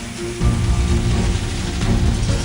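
Steady rain falling on an evening in Chandauli near Varanasi, a dense continuous patter that stays loud and close with no voices.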